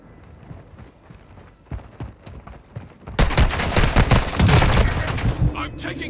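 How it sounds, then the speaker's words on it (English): Dense video-game gunfire, sparse distant shots at first, then a sustained loud volley of overlapping bursts and fusillade that fills the second half. "I'm taking fire!"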